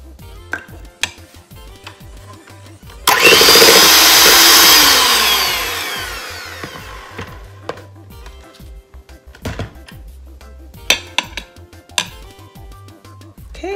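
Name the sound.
mixing cream cheese and peanut butter mixture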